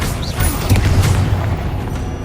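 A Confringo fire spell bursts in a video game, a dense low boom rumbling for about two seconds amid layered combat effects, with no talking.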